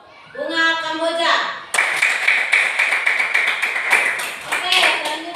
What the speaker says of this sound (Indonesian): tepuk tangan dulu untuk kelompok Bunga Kamboja